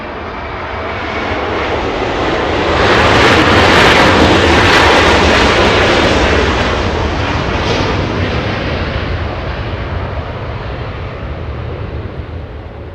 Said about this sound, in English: Flying to Melbourne, QF94 787-9.